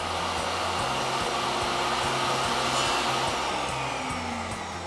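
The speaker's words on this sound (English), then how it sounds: "we need to add a fourth cut with a beveled edge" A power saw cuts a beveled edge along a wooden board for a floating shelf. Its motor gives a loud, steady whine that runs unbroken for the whole stretch, with no voices.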